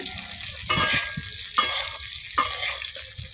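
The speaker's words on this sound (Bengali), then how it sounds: "ফুলকপিগুলো খুব সুন্দর করে নেড়ে চেড়ে হালকা বাদামি কালার করে ভেজে নিয়েছি" Cauliflower florets frying in oil until light brown, with a soft sizzle under three or four distinct stirring scrapes of a spatula in the pan, fairly close.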